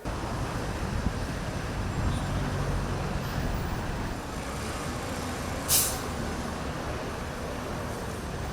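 Stalled traffic fills a jammed street in Dakar with a steady, dense roadway rumble and engine drone, broken by one brief hissing burst midway, with no voices.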